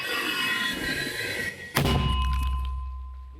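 A single heavy, booming thump of a mortar shot during combat near Klishchiivka cuts through a steady background hum, its low rumble lingering and fading afterward.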